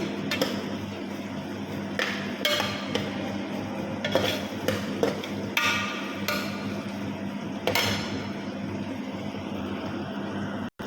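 Metal pan clatters and scrapes in bursts as food sizzles steadily underneath, with no talking.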